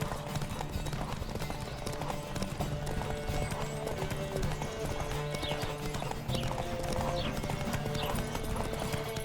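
Rapid rhythmic hoofbeats of a galloping horse in the video game The Witcher 3: Wild Hunt drive steadily under loud music and wind-like rushing noise.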